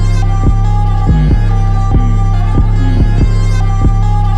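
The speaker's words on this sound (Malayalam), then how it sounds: "ഈ ഫുൾ ബീറ്റ് എങ്ങനെ ഉണ്ടെന്നുള്ളത് കേട്ട് നോക്കാം" An Indian-sampled hard trap beat plays back loud and steady, with heavy booming bass kicks on a repeating rhythm under sustained melodic sample tones, and no voices.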